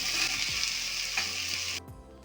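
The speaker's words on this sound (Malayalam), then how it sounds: "സവോളയും ചേർത്തതിന് ശേഷം നമുക്ക് പിന്നെയും നന്നായിട്ട് ഇളക്കി കൊടുക്കാം" Onions frying in oil and being stirred in a pan for Kerala-style beef curry: a loud, steady sizzle with scraping strokes of the spoon, cutting off sharply near the end to a quiet hum.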